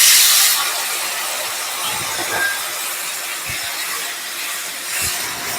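Water poured into spices frying in a pan, giving a bright, steady hiss that starts loud and settles into a continuous sizzle with a few soft knocks, no talking.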